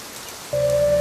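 Soft, steady rain on a quiet morning, a faint even hiss that grows slightly fuller halfway through as a low steady tone joins it.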